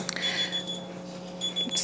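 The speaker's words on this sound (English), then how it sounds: "You can turn alarms off." An electronic alarm beeps in two short bursts of thin, high repeated tones separated by a quiet gap, over a steady low hum, fairly faint and with no talking.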